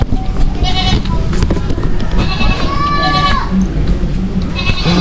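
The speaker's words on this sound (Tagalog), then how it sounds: "Kambing." A goat bleats a few times, wavering calls at moderate distance on a rural Philippine site where building materials are being hauled, heard over steady outdoor noise and light rain.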